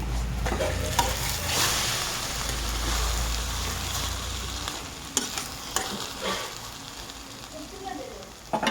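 Boiled potato and egg dish frying crisp in a pan, a steady sizzle with stirring and scraping throughout, and a few sharper clinks near the end.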